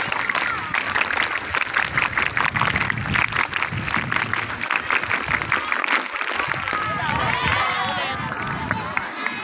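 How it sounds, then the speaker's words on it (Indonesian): Scouts at a Pramuka training repeat their patterned group clap, many hands striking in quick rhythmic bursts close by, then fading into crowd noise and chatter toward the end. "Sekali lagi, Tepuk Pramuka."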